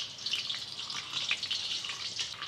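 Mustard seeds crackle and sizzle steadily in a ladleful of hot oil, the tempering for raw mango chitranna made with half a kilo of rice; a dense, continuous hiss with tiny pops throughout.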